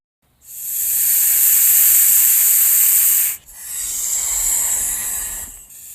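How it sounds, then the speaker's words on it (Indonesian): A snake hisses loudly and close in two long, breathy bursts, the first about three seconds and the second slightly softer. There is only a brief break between them. "ular"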